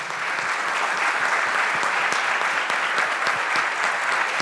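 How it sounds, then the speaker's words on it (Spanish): An audience applauds a popular cook after an interview, with loud, steady, dense clapping that holds evenly throughout with no one speaking. "todo este aplauso"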